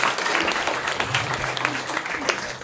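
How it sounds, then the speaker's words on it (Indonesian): An audience claps for Anies Baswedan at a talk show on the role of the Indonesian diaspora: brief, moderately loud applause with distinct individual claps. "Kita beri tepuk tangan dulu untuk Pak Anis."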